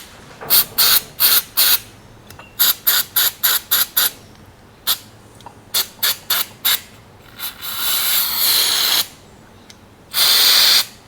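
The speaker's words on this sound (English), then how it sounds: "we'll spray carb spray down a bunch of these" Carb cleaner sprayed into a carburetor in many short, sharp hissing bursts, clustered in quick runs, followed by two longer sustained sprays, close and loud with no talking.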